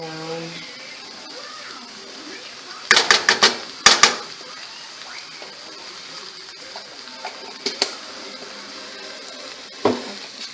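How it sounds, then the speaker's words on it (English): Garlic and onion sizzle softly in a pan, punctuated by sharp clattering bursts of a utensil stirring and scraping, clustered early and then scattered, with a voice speaking at the start. "So now I'm going to stir the garlic and onion in"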